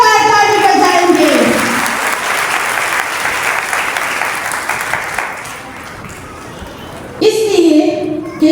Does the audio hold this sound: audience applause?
yes